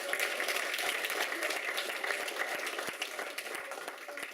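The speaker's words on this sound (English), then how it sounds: "I want a round of applause for that" Applause from the audience at a UCMMA mixed martial arts press conference, a steady wash of many hands clapping at moderate distance that holds for several seconds before easing slightly.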